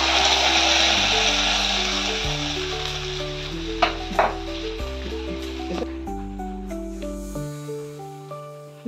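Onions fry in coconut oil with a steady loud sizzle that gradually fades and thins, with a few sharp pops and stirring clicks; a bright instrumental melody plays over it.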